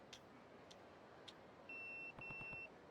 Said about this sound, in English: Pager's beeping.